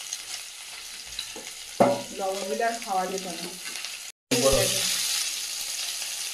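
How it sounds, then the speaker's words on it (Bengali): Pieces of fyasa fish fry in hot oil, a continuous close sizzle that runs under a woman's speech and resumes loudly after a brief cut. "এই ফ্যাঁসা মাছ ভাজা"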